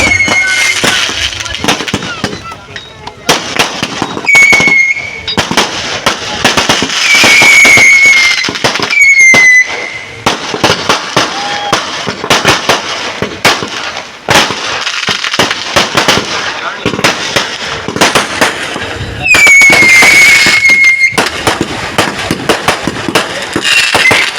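Rapid volleys of firecrackers banging and crackling close by at a religious sea-festival celebration in Pachubandar, Vasai, with whistling rockets rising at intervals and voices carrying through the noise.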